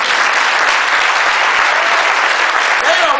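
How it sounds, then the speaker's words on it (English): A church congregation claps loudly and continuously, a dense wash of hand claps filling the space with no break. "Get a load of hand clap."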